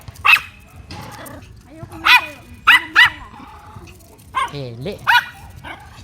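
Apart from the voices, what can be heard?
dog barking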